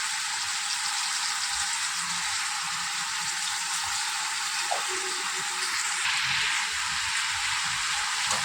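Vegetables, green chillies and turmeric fry in a pan, a steady, even sizzle like light rain holding throughout with faint stirring clinks.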